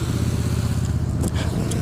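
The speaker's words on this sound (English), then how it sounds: "that motorcycle or motorbiker's turning" A motorcycle turns on a city street in Phoenix, Arizona, its engine a steady low rumble close by amid traffic noise, with a brief rise near the end.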